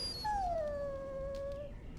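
A dog in Dragon Age Origins lets out a single drawn-out whimpering whine, close and clear, falling slightly in pitch over about a second and a half.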